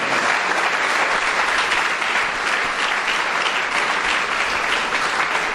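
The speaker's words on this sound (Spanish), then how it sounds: "¿A quien pido un aplauso al Señor?" A church congregation applauding during a Spanish-language sermon, with continuous dense clapping at a steady, loud level from start to finish and no voice over it.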